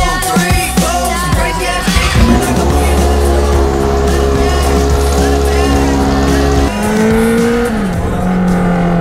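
A Honda Hornet motorcycle being ridden, its engine holding a loud, steady, droning note that shifts pitch a few times and runs continuously throughout.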